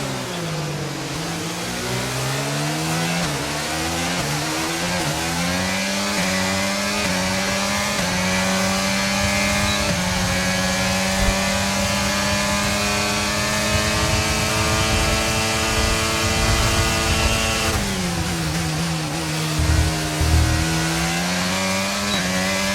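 F1 race car engine in the F1 23 video game during the final laps of a race, a loud, high-pitched screaming drone that holds steady, dips with a gear change near the end, then climbs again, with no speech.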